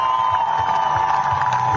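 A crowd at a Ramp Jam skate ramp event roars with cheers, whoops and applause, a dense sustained wall of sound that stays loud throughout.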